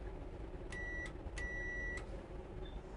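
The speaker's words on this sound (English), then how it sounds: "give the driver the ready to start signal on the bell or buzzer" A train's ready-to-start bell or buzzer gives two distinct rings, each a steady electronic tone lasting about a third to half a second, over a constant low rumble of background noise.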